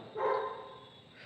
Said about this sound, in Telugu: మా ఓనర్ వాళ్ళ డాగ్ కూడా అరుస్తుంది